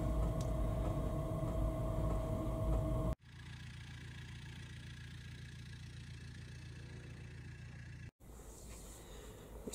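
A Chinese diesel heater runs steadily at close range inside a GRP boat's cabin, giving a continuous low mechanical hum with a constant fan whir, interrupted by two brief dropouts.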